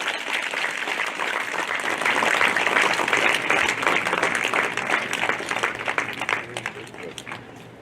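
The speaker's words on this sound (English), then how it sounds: "Please give a round of applause to all our veterans here today" Sustained audience applause for veterans at a school Memorial Day ceremony, a dense rattle of many hands clapping close and loud, swelling in the middle and thinning toward the end.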